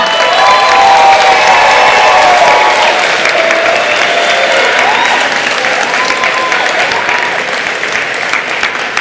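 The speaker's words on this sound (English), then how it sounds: "Please thank them with a very loud round of applause for everything they've done." Graduates at a Hiram College commencement ceremony give a long, loud round of applause in a large hall, dense clapping mixed with some cheering that slowly fades toward the end.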